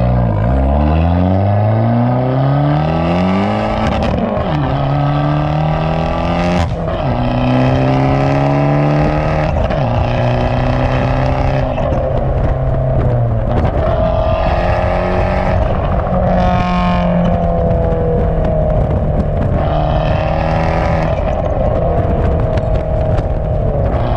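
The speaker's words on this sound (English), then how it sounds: "Trying to see if we get some cool sounds, some cool exhaust sounds, maybe some backfire." A car exhaust recorded from a rear bumper mount roars loudly through repeated acceleration runs, rising in pitch, dropping at each gear shift, then climbing again, close and continuous without any talk.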